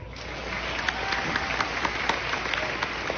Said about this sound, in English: I want to give these guys a big round of applause